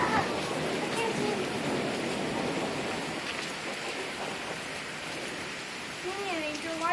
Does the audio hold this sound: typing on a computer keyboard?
no